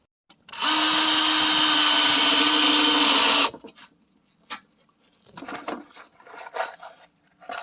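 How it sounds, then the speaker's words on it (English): Power drill drives coated 1 1/4-inch screws through metal into wood, a loud steady whine lasting about three seconds, followed by quieter handling clatter and faint taps. "you want to use 1 1/4" screws to screw your metal to your wood with, coated"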